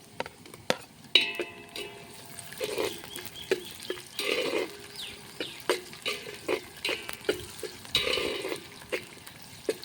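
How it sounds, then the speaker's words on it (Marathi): Potatoes tumble into a pot of Khandeshi khichdi on a wood-fired chuli stove, a series of soft irregular plops and clatters with stirring and a gentle wet bubbling underneath, close and fairly quiet. "तर बटाटे टाकूया."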